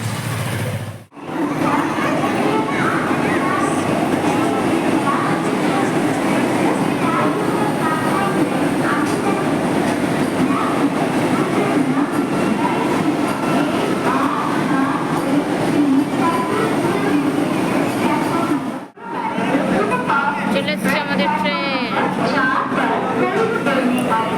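A train pulls out of a station in Odisha, India, with a steady rolling rumble and rattling carriages that run without a break. Brief dropouts come near the start and near the end, and a faint squeal follows the second gap.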